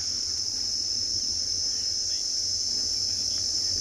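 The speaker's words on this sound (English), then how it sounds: "The cicadas are singing around us," Cicadas sing in the bush during a sunrise safari at Tswalu, a dense, unbroken high-pitched drone that holds steady throughout with no voices.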